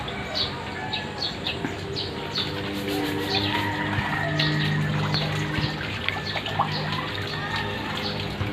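Steady trickling and splashing of a small landscaped garden waterfall, a continuous close wash of running water with birds chirping faintly in the background and a voice talking now and then.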